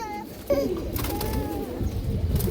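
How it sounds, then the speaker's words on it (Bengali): Jungle pigeons coo softly nearby in a loft, short throaty calls over a busy background with faint chatter. "জঙ্গলি বাগান অর রোডের কবুতর"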